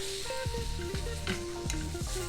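Steady sizzling and crackling of tomatoes charring on a hot comal griddle, with recurring scraping strokes and a tonal hum throughout.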